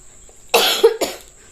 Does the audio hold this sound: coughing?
yes